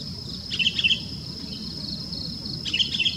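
Two short bursts of high, bright chirping calls from a murai bird, close by and separated by a pause, over a steady insect-like hiss in a forest.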